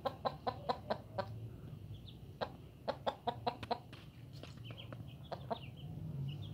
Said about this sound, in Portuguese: Olha a galinha adulta aí